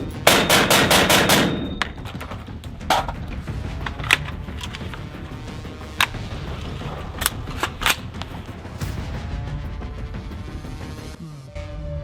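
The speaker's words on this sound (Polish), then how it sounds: "Oddajmy teraz kilka strzałów." Toy replica guns firing in a night-vision test, starting with a rapid loud burst of automatic shots and followed by scattered single sharp cracks and clicks.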